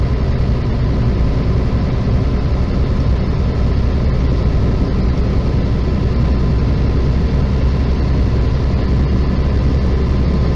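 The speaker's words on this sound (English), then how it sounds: "Use my engine brake." A loud, steady low rumble of a heavy truck engine using its engine brake, holding its note throughout, continuous with no breaks and no talking.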